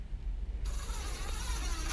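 Screws are driven through drywall into wooden strips, giving a steady whirring, ratcheting drive sound that starts abruptly and continues close and fairly even to the end.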